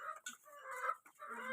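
A desi hen clucking close by, a run of short throaty calls with a brief pause midway.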